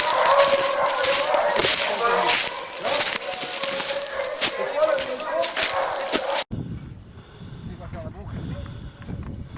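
A pack of Ariégeois hunting hounds on a hare trail during a pack trial, many dogs baying and yelping together outdoors, loud and continuous, with a person talking over them and a quieter stretch at the end.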